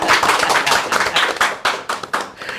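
Hand clapping at a Sundanese-language podcast, a quick run of sharp, fairly close claps with an irregular rhythm, fading to a few scattered claps by the end, with no talk over it.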